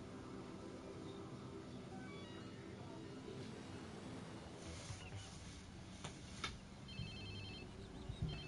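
A phone rings with a faint, repeating electronic tone against a noisy background, quiet and somewhat distant, with brief louder bursts toward the end.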